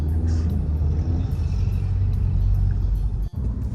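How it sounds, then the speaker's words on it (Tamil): Road traffic clears and cars move off, making a close, low, rumbling engine noise with passing vehicles and a brief dip near the end. "டிராஃபிக் கிளியர் ஆகுது"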